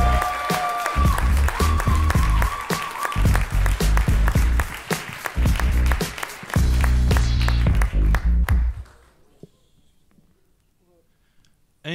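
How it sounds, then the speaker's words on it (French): Loud audience applause fills a slam poetry championship final in Le Mans, dense clapping with broadband bursts that runs for about eight seconds, then falls away abruptly to a quiet room. "nous allons garder vos applaudissements pour Jean-Maxime du Québec"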